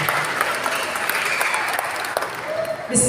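Audience clapping at a Betawi silat competition festival, a dense wash of applause that holds steady for about three seconds before a voice starts speaking at the end.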